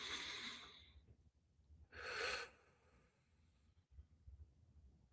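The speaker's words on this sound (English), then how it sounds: "We're trying to use like our solar plexus to do the breathing." Two strong, deep breaths taken from the stomach in a diaphragm breathing exercise, each a broad rushing exhale about a second long, heard close in a quiet room.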